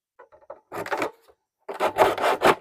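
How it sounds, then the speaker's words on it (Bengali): A discarded plastic water drum being sawn through the middle, with short rasping strokes in two bursts separated by a brief pause, close and moderately loud. "নিয়ে এরকম মাঝখান দিয়ে কেটে নেবেন"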